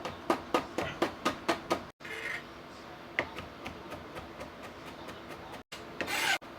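A knife chops fresh garlic on a board, a quick run of about nine sharp, evenly spaced cuts followed by slower, scattered taps and a short scraping rub near the end, close and fairly quiet.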